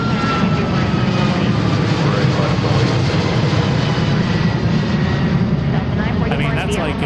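A Southwest jet departing Seattle's runway 34 right for Denver, its engines a loud, steady roar that holds throughout, with a voice talking over it.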